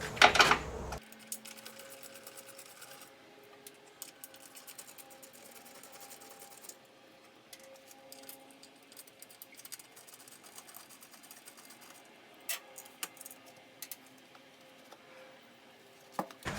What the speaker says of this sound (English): So I got my 10mm socket and ratchet. I'm just gonna go ahead and start removing all these bolts.